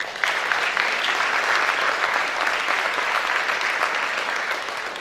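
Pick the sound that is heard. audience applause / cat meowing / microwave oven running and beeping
audience applause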